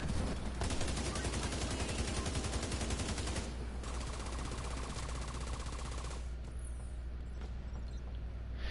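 A deployed automated turret in the video game The Division 2 fires long sustained bursts of rapid gunfire, loud and continuous, with a brief shift in tone partway through.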